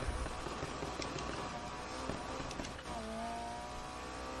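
A car in the racing video game Need For Speed Heat, driven with a racing wheel, accelerates in a desert setting, engine revving and rising in pitch with a faint tire squeal, no talking.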